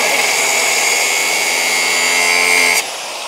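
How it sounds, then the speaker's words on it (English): An angle grinder bears down on a metal nut, a loud, continuous high-pitched whine with a steady grinding rasp that cuts off abruptly near the end, leaving a lower residual hum. "when you put the grinder on the nut, it always fires sparks"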